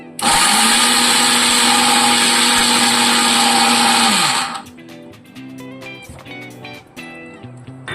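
A kitchen mixer grinder coarsely grinds spice powders for a ponnaganti leaf fry, a loud steady whirring roar for about four and a half seconds that then cuts off, leaving quieter kitchen sounds.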